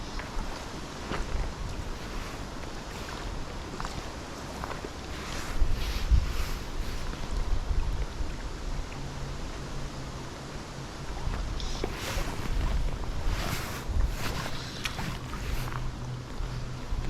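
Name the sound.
wind blowing by the water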